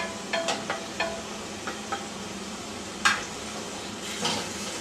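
A utensil stirs boiled, drained vegetables in melted butter in a pan, making light scraping and several scattered metallic clinks and taps, quiet and close, with no talking.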